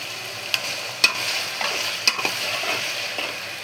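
Spices stirred and sautéed in oil in a frying pan with ginger-garlic paste, cumin and onion: a steady close sizzle with a few sharp scrapes of the spoon against the pan.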